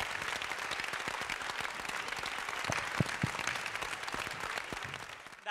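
A packed hall at a Tamil pattimandram debate show erupts in sustained applause, with individual sharp claps standing out from the dense clapping throughout.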